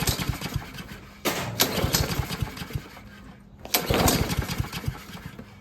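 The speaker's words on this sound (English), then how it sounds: "we have the mower right here all set up, so let's try and start it" Repeated pull-start attempts on a lawn mower that won't start, the small engine coughing and sputtering briefly in two bursts with clattering chug pulses, close and fairly loud, never catching into a steady idle.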